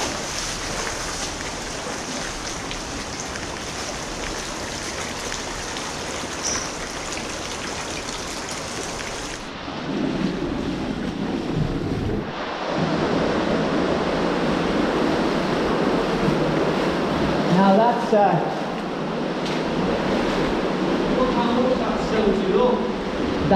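A river runs through the Hebble Brook culvert, an underground tunnel beneath Halifax. The water makes a continuous echoing rush that swells louder and rougher partway through, with voices talking over it at times.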